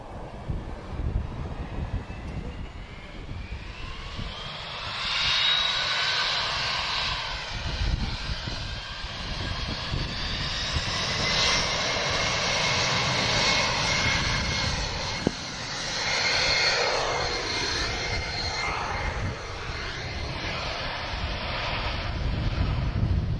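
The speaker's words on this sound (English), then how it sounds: "a seguir já prontinho para descolar o 757 da DHL" DHL Boeing 757 cargo jet taking off, heard from a distance as a swelling, sustained engine roar with a rising whine, with some wind buffeting the microphone.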